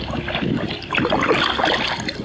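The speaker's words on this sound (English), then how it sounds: "it's about time we explored our backyard, Loch Feochan, by kayak" A kayak is paddled across Loch Feochan, a sea loch, with soft rhythmic splashes and water swishing close by under light wind noise.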